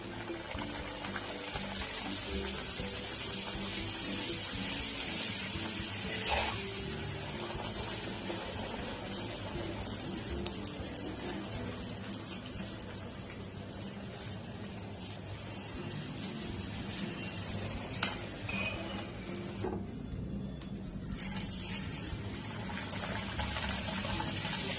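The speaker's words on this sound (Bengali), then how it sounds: "লুচিগুলো এবার ভেজে নেব।" Luchi fry in hot white oil in a kadai, a continuous bubbling, crackling sizzle that runs steadily for nearly half a minute, with a brief dip near the end and no speech.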